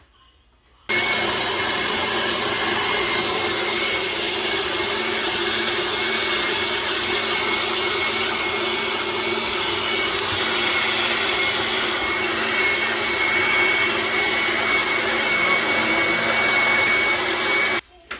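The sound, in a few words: blender pureeing enchilada sauce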